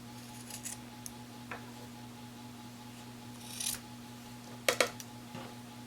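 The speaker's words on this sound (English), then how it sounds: "We're going to slide the scissors in. And we want it to be even, so we're going to go ahead and pull from the top again and make it tight. And then we're going to cut." Scissors snip through eyelash trim yarn while making a gnome tassel: a few quiet, close metallic cuts and rustles, with a sharp double snip near the end, over a steady low hum and no speech.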